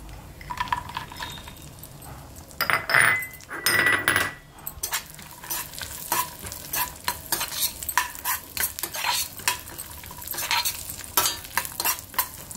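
Cashews frying in hot ghee are stirred around a pan with a metal spoon, giving repeated scraping clatters and clinks over a soft sizzle, close and fairly quiet.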